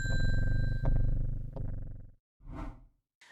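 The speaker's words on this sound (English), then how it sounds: "Pet the cat. Ring the bell." A cat purring in the Strange Horticulture game, a steady low rumble for about two seconds, followed by a short bright ring of a shop bell, then a faint final chime.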